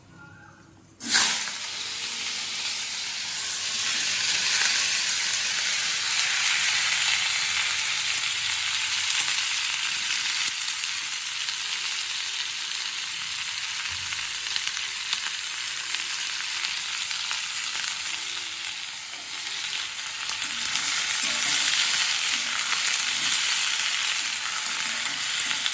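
Potatoes and onions hit hot oil in a pan for curry, an abrupt loud sizzle that settles into a steady, close, continuous frying hiss with occasional stirring, no talking.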